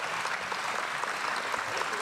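Audience applause during a creation-versus-evolution debate, a soft, even wash of many hands clapping heard from a distance, steady for the whole moment with no voices over it.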